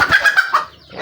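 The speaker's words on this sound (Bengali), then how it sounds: "মুরগি ডিম পাওয়ার জন্য বসে রয়েছে" A hen sits on her nest to lay eggs and makes a short run of close, soft, throaty clucks that trail off into quiet.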